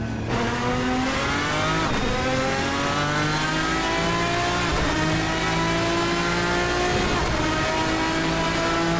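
Race car engine in the Assetto Corsa sim revving hard and loud through repeated gear changes, pitch sweeping up and down continuously with no talk over it.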